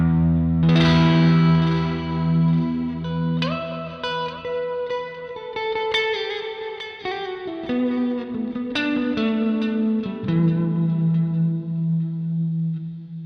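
Guitar notes run through an Empress Zoia pedal patch set to roughly 30% delay and 70% dry signal, each plucked note trailing soft repeating echoes and a reverb wash, played alone with no voices.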